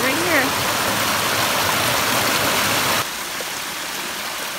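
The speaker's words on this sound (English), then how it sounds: "Hiking alongside this little creek here." A small creek flows beside a hiking trail on Mount Greylock on a gray day, a steady rushing wash of water that drops sharply quieter partway through, with a brief bit of voice early on.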